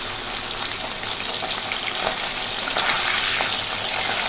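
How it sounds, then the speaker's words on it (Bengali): Pomfret fish frying gently in hot oil in a home kitchen, a steady close crackling sizzle with small pops, continuous and fairly loud throughout. "তেলটা আমার গরম হয়ে গেছে, আমি এক এক করে মাছগুলো ভেজে নেব"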